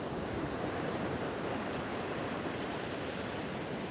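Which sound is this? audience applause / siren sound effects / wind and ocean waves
wind and ocean waves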